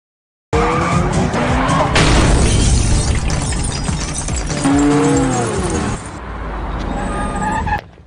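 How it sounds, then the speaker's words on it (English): A car accelerates away at full speed, with loud tire skidding and a roaring engine that holds strong for several seconds, then drops and cuts off abruptly. "Soon after, Pierre sped off in the car at full speed"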